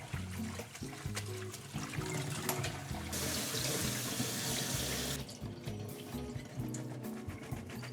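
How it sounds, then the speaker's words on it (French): Leeks are rinsed under a running kitchen faucet, with water splashing steadily into a sink, a louder gushing stretch in the middle, and handling trickles around it. Nobody speaks. "Avant de cuire mes poireaux, je viens bien les laver dans l'eau pour retirer la terre qui peut éventuellement rester dessus."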